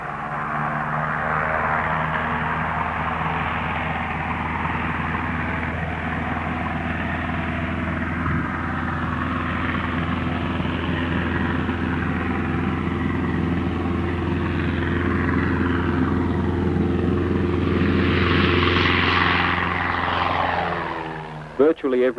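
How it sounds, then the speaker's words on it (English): A small plane flies over the country town of Grenfell in southern New South Wales, its propeller engine droning steadily and loudly for about twenty seconds before fading, with someone speaking over it. "Virtually every day the little plane flies in or out of town, the town of Grenfell in southern New South Wales."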